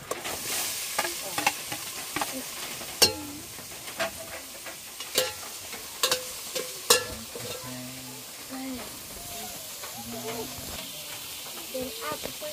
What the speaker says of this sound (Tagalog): magluluto tayo ngayon ng adobong sitaw